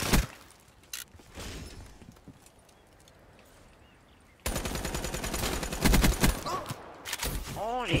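Gunfire in Call of Duty multiplayer, a quiet stretch with a couple of isolated shots giving way to loud sustained automatic bursts and game effects up close, with a voice faintly present.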